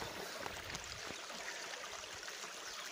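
Cold mountain stream water trickling and splashing steadily over stones nearby, a continuous bright hiss with no voices.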